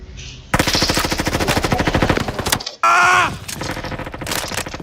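Rapid automatic gunfire in Roblox Frontlines during close-quarters combat, loud and near, with long sustained bursts, a brief pause and a sharp distorted blast before more firing.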